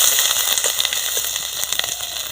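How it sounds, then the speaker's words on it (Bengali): Grated ginger frying in hot oil with garam masala and bay leaf gives a close, busy sizzle with dense crackling pops throughout the short stretch. "দিয়ে দেবো গ্রেট করে রাখা আদা আদাটা একটু ভেজে নেব"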